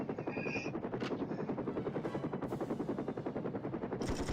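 Rapid machine-gun fire in the PS1 video game 007 Tomorrow Never Dies, a dense, steady stream of shots with a helicopter thrumming underneath, continuous and fairly loud throughout, with no talking.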